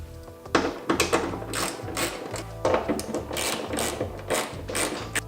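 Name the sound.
tightening small bolts on wing riser kit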